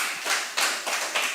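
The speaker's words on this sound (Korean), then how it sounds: "박수 좀 하시라고요." A church congregation claps during a Friday worship service, several bursts of applause rising and falling in quick succession, fairly close and with no voices over it.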